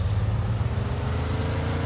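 Car engine in the Mafia 2 Remastered video game, a steady low rumble of a vehicle driving, loud and continuous with no talk.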